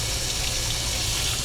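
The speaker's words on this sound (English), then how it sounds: "So I'm just running some water right now" Tap water runs steadily into a kitchen sink, a constant close, even rushing flow filling the basin to warm eggs for washing.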